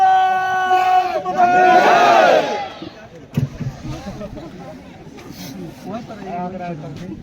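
At an Indian Army Agniveer welcome, a crowd chants loudly in unison, with a sustained rising shout early on, followed by looser voices and babble.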